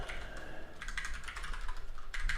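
Rapid typing on a computer keyboard during Python coding work, with clustered bursts of clicky keystrokes that pause briefly and resume, heard close with no speech over them.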